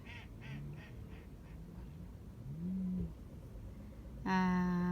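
Ducks being fed sweet corn quack in short bursts, first a quick run of calls then scattered ones, ending with a louder, close honking quack.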